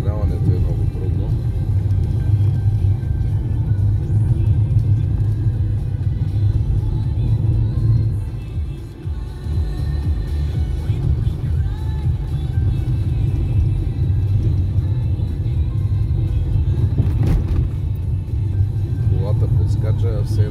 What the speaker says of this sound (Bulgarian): Колата подскача, все едно сме на друга планета. Такива неравности на пътя има.